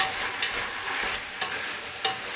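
A squash mix is stirred in warm oil, giving a steady close-up sizzling hiss broken by three sharp scraping strokes of the spoon.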